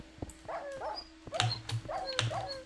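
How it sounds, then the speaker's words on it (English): Dogs in the video game Minecraft whimpering and yelping while suffocating, several short quiet whines repeating in quick pairs over a faint steady background hum. "My dogs are suffocating!"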